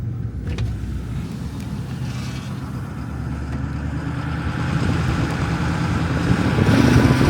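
A Power Stroke diesel truck engine running steadily, a continuous low rumble that grows slightly louder toward the end.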